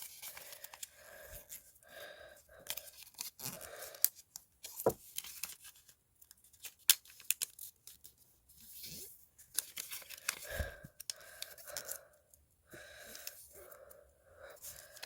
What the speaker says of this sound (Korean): 그 다음에 4개의 끝이 가운데에 보이도록 접어주세요.